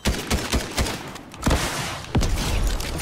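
A jackal launcher fires in Fortnite, a close, loud series of rapid thumping blasts in uneven clusters across a few seconds.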